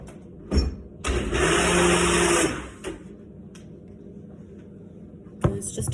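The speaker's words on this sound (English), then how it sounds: "So then I'll blend, and I'll do that over here where I have my blender." A kitchen blender whirs through a batch of homemade tube feed in a short, loud burst of about a second and a half, with a clunk before and brief handling knocks afterward.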